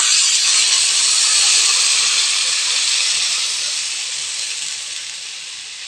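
Rice flour batter goes into a hot pan for more kali, giving a strong, steady hiss close by that slowly softens over several seconds, with no talking.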